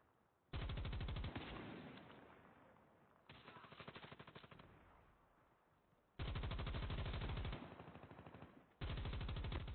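Automatic weapon fire in the mobile shooter Call of Duty Mobile: long rapid machine-gun bursts with short pauses between them, loud and close, without talk.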